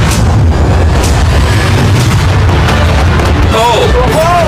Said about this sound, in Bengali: ফায়ারওয়ার্ক গুলো ফায়ার করো।